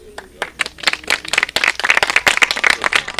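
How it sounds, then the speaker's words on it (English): A small group of people clap their hands, starting with scattered claps and building into denser, uneven applause nearby, with faint voices underneath. "You don't have to clap, huh?"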